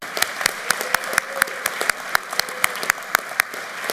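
Applause at a 2023 GED graduation ceremony, sparse enough that individual claps stand out in a steady, fairly even rhythm, moderately distant and alone without talk.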